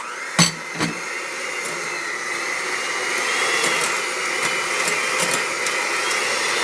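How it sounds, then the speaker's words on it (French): An electric hand mixer beats cake batter with cocoa, a loud steady motor whir running throughout after a couple of sharp clacks at the start, with faint knocks of the beaters against the bowl. "on va battre le tout à l'aide du batteur électrique"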